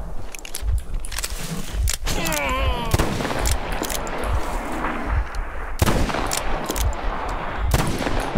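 Gunfire in the Metro Exodus video game, with repeated sharp shots and bursts over a busy, noisy background, plus clattering movement sounds.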